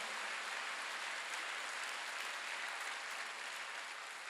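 A church congregation claps together during a Wednesday worship service, producing a steady, dense wash of applause that holds evenly throughout without pause.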